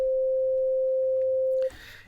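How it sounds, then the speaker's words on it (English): A pure, steady sine wave note from an Arturia Modular-V software synthesizer held for about a second and a half, then cut off abruptly into a brief noisy tail. "If I now press a key on my keyboard, I get a sine wave."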